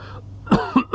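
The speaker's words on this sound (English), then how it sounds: "While I'm coughing." A person gives three short, harsh coughs in quick succession, close and fairly loud, after a brief moment of quiet breath.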